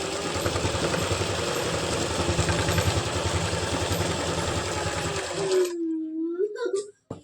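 A sewing machine stitches palazzo pants in a continuous fast mechanical whir, close and steady, stopping abruptly near the end as a brief voice sounds.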